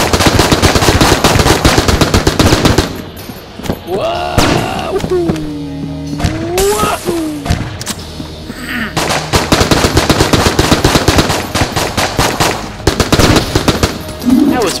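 Rapid AK-47 bursts fire in the video game Enter the Gungeon, loud dense rattling volleys with a lull in the middle where electronic game tones sweep and a voice talks briefly, then the gunfire resumes.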